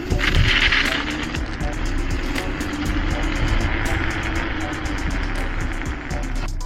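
Ride noise from a modified Dualtron Thunder 2 electric scooter: a steady, loud broadband rush with a low hum, constant throughout with no clear pauses.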